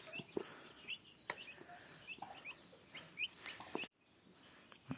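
A turkey hen with her newly hatched poults gives soft clucks while thin, high chirps repeat close by, with a brief dropout near the end.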